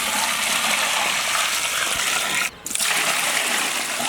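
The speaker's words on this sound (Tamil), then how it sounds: "அதுக்கேற்ற மாதிரி தண்ணி ஊற்றிக்கிறேன்" Water pours steadily and loudly into a large cooking pot for basmati rice, a continuous close gushing rush that briefly cuts out before resuming.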